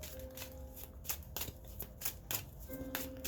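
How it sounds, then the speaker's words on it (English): Cards being shuffled in quick riffling bursts, several crisp flutters repeating over a low steady background hum. "couple more shuffles and then we will begin"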